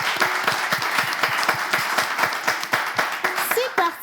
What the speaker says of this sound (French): On applaudit notre candidate.